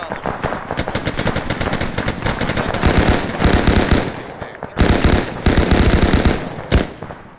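A BTR armoured vehicle firing in Arma 3: loud sustained bursts of heavy automatic gunfire in rapid rhythmic volleys, broken by short pauses, close and dominant.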